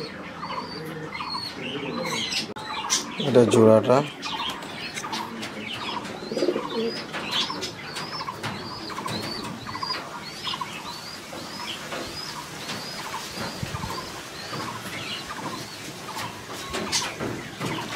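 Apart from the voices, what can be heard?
pigeons cooing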